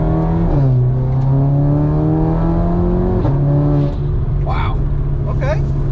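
Close interior engine noise of a Mk8 Volkswagen Golf R fitted with a DBV2 4-inch downpipe, droning loudly and rising in pitch through a steady pull in non-sport mode, with a brief dip around a gear change.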